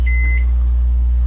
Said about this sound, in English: Close the microwave, and I accidentally hit 55.